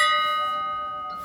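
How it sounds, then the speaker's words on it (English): A bell rung to mark the end of chemotherapy gives one bright metallic strike, then its clear, steady tone rings on and slowly fades, with a faint second touch near the end. "And when I rang the bell for finishing chemotherapy."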